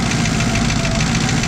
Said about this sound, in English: I just tickled that key and this thing lit right off.